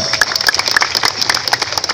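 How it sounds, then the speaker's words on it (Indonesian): Scattered hand claps from an outdoor religious rally crowd applauding Pak Zulkifli Hasan, individual sharp claps standing out in an uneven rhythm over a busy background. "Tepuk tangan buat Pak Zulkifli Hasan"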